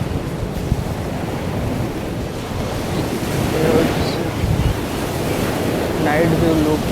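Sea waves wash in at night along the shore at Daman, a steady rolling roar mixed with wind buffeting the microphone, with faint distant sounds on top.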